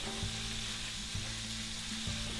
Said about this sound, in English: Now we need to cook that lamb till it's lovely and golden brown and cook through